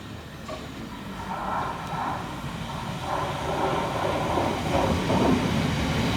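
A Class 700 Thameslink train arriving at Carshalton station, a broad rumbling roar that swells gradually as it draws closer, with no talking.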